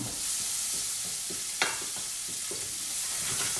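Scallops and scampi with shallot, Espelette pepper and salt frying in a pan, a constant bright sizzle with a few soft clicks and one sharper knock midway.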